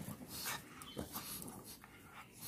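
A pug being bathed gives soft, high whimpers and quick panting breaths, faint and close, over a wash of splashing and room noise.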